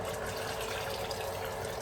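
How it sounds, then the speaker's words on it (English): Water pouring steadily into a cooking pot of Cambodian seafood porridge with noodles, a continuous close gushing fill with no talk over it. "And I'm going to add some more water."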